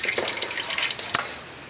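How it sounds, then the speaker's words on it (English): Oil dripping from a loosened oil filter on a 2007 Honda Pilot, a series of small irregular drips and splashes, close and fairly clear. "Once the oil stops dripping, go ahead and remove the filter with your hand."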